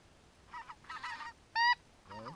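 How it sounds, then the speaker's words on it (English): Several geese honk in a scattered series of short calls, one louder honk standing out near the end, fairly close with no talking, during waterfowl hunting in Alberta. "there's a bunch of geese out that way too"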